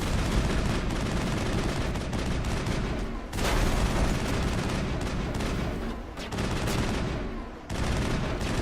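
Sustained enemy gunfire in Mass Effect, a dense continuous rattle of shots with a few brief dips and sharp bangs, loud and busy throughout.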